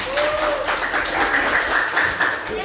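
Classroom applause from a group of students clapping steadily for the full few seconds, a dense, even patter with some voices mixed in.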